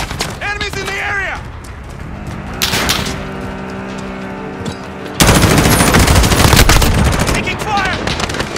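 Gunfire in the video game Call of Duty Modern Warfare: bursts of automatic fire over a steady game din, getting louder and denser in the second half, with radio-style voices heard at times.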